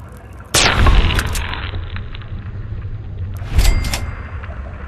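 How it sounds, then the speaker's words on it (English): A BB gun fires at a radroach in Fallout: a sharp, loud shot with a booming low thud, a sustained rumbling tail, and a second, softer shot near the end. "Think you can take care of that with your BB gun? Just aim and shoot."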